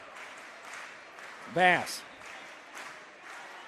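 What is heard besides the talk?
gym crowd clapping in unison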